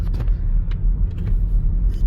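Steady low rolling rumble from inside a 2023 BMW iX3 driving itself on lane keep assist, tyre and road noise constant and close, with a few brief faint clicks and rustles on top.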